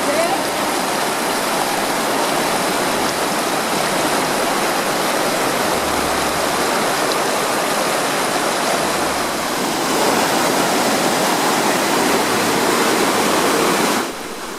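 Sallente river rushing steadily in the mountains near the Boavi forest as hikers cross a bridge over it, a loud, constant broadband roar of flowing water close by, continuous throughout with no talk.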